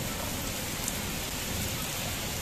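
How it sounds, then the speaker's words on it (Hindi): Dense, steady downpour hissing evenly throughout, loud and close, with no voices or other sounds breaking through. "ये देखें जी बहुत तेज़ बारिश है"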